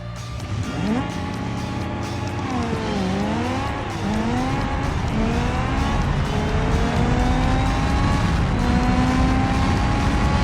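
A Ibishu Wigeon in BeamNG makes a nitrous-assisted drag race pass, its engine loud and continuous, climbing in pitch through repeated gear changes with tire squeal mixed in across the full run.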